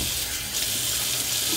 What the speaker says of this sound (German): einmal Wasser drüber.